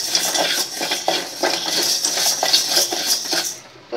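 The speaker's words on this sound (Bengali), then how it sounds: "সবগুলো চাল আমি এইভাবে ভেজে নিব।" Rice grains dry-fried in a home kitchen pan, scraped and stirred with a utensil: steady close-up clinking and scraping strokes with a rhythmic rattle, continuous until it fades near the end.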